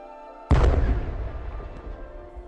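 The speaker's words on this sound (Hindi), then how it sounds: "उस वातावरण में एक धमाके की प्रतिध्वनि गुंजायमान हुई।" After a quiet moment, a single loud explosion booms out suddenly, then rumbles and fades away over the next two seconds.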